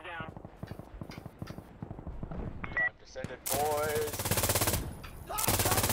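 Automatic gunfire from an MG3 machine gun in a co-op shooter video game, loud sustained bursts dominating the second half, preceded by voices talking over scattered game noise.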